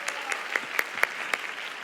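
A church congregation at a Sunday worship service claps in welcome, a brief burst of dense, steady applause filling the room.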